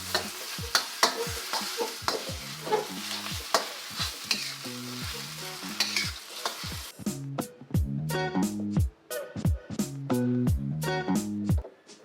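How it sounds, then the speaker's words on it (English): Kway teow noodles with egg stir-fried in a pan for Malaysian char kway teow, steady sizzling under rapid, rhythmic scraping and tossing of a spatula against the metal, loud and close. "Put your noodles on top. All right, and start mixing."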